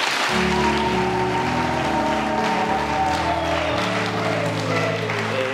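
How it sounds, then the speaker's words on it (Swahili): A crowd at a Catholic graduation mass applauds the bishop with steady, dense clapping that fills the church, heard together with sustained organ or choir tones throughout. "Pia tumpigie makofi baba askofu"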